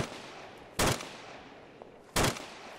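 Gunfire in the video game Insurgency, with two sharp, loud single blasts about a second and a half apart over a quiet background.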